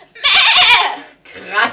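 A goat bleats twice, a long wavering bleat close up followed by a shorter one, with no talk over it, in an outdoor farm setting.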